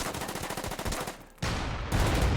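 Heavy artillery and mortar fire in a World War II strategy game on the Stalingrad front: rapid, loud rattling bursts of shots, a brief lull, then booming blasts that ring out.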